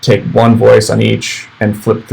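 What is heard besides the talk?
No everyday noises stand out.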